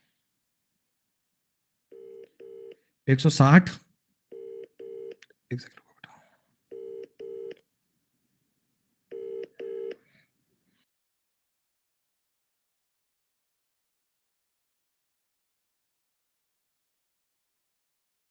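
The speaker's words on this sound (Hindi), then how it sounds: "मैडम को फोन करना पड़ेगा।" Telephone keypad dialing tones: short paired beeps in small bursts, with a brief spoken phrase and a rustle between them, in an otherwise quiet indoor setting.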